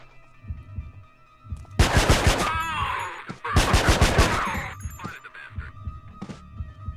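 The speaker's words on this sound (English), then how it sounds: "They're already shooting and I'm not even there." Gunfire in the Manhunt video game: two loud bursts of rapid automatic shots, each about a second long and separated by a brief pause, over a low background hum.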